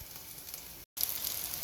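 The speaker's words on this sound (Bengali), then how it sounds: "সবজিটা বাগার দিয়ে নিচ্ছি।" Mixed vegetables sizzling in hot oil during tempering, a steady, hissing fry close by with a very short gap of silence partway through.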